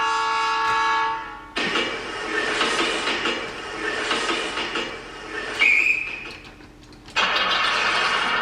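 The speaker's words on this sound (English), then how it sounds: "I guess that's a diesel startup. That sounds like an engine there." A toy diesel train engine cranks and starts up after a brief tonal hum, then runs with a steady broadband rumble and a short high whine partway through.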